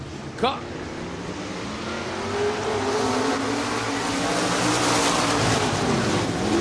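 Stock cars race in a heat at Northwest Florida Speedway in Baker, Florida, with a brief sharp pass early on, then loud engine roars climbing and holding as the field runs hard.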